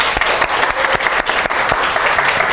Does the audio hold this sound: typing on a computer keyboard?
no